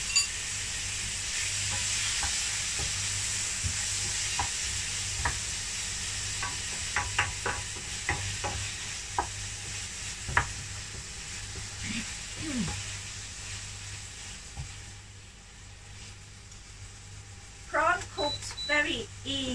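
Prawns and garlic stir-fry in a pan with a steady hiss and sizzle, punctuated by scattered clicks and scrapes of a utensil, with brief voices near the end.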